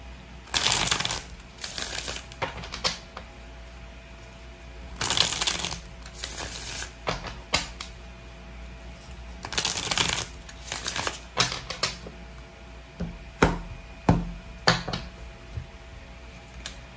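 Tarot cards shuffled in repeated bursts of riffling and snapping, separated by quieter pauses and a few light taps, close to the listener.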